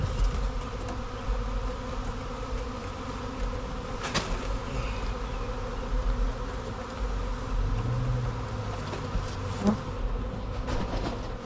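A honeybee swarm on the side of a house makes a dense, continuous buzzing hum, close and fairly loud throughout, with individual bees droning past.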